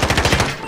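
Rapid automatic gunfire in the Warzone video game, a burst of about seven evenly spaced shots over most of a second, loud and close, then a quick fade.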